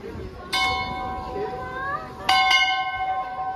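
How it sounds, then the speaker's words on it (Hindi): Temple bell rung by a lake, two bright metallic strikes a couple of seconds apart, each ringing on with a long resonant decay over outdoor background noise. "घंटी बजा रहा"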